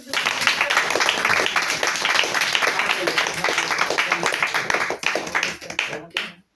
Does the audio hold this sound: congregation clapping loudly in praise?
yes